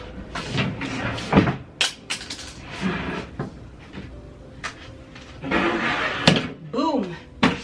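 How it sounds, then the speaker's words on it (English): A folding table flipped open and its sides set up, with knocks, clacks and short rattling thuds in a quick sequence while someone talks over them. "to set it up, you flip that open, and then you just flip the sides open."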